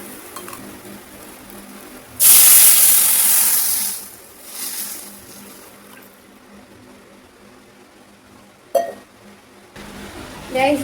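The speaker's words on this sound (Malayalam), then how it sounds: "അതിനകത്ത് വെച്ച് വെള്ളം ഒഴിച്ചു കൊടുക്കാം." Water poured into a hot pan of oil and masala for a masala Maggi noodle dish bursts into a loud, hissing sizzle that fades over a couple of seconds, followed by quieter bubbling and a few clinks.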